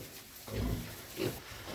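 Low, soft grunts from one-month-old piglets on a small farm, two brief snorting bursts over a quiet hiss, fairly faint.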